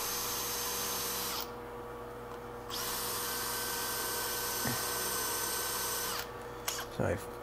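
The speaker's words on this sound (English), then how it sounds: "gotta keep drilling" Power drill grinding steadily into a broken lug nut on a car wheel, a continuous close whine with brief pauses and a few clanks near the end.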